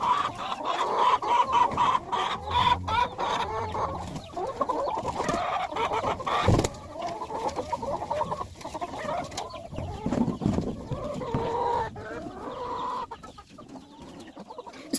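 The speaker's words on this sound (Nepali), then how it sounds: "कुखुरालाई चाहिँ फेरि यस्तो फेभरेट रहेछ क्या कुखुराले चाहिँ, अनि यस्तो मजाले खाइदिन्छ" Chickens clucking steadily while pecking at and eating cut grass, soft repeated clucks at close range with occasional louder calls and scattered handling noises, no talk.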